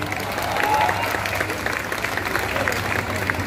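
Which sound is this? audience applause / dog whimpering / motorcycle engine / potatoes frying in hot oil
audience applause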